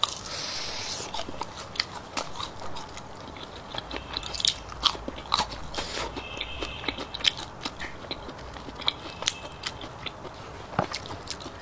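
Crispy deep-fried meatballs with meat and carrot inside, coated in crunchy batter, are bitten and chewed up close, giving a steady series of sharp crunches and wet chewing clicks.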